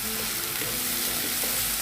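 Garlic paste frying in hot oil with small kachki fish, a steady dense sizzle under occasional soft stirring scrapes, close and continuous.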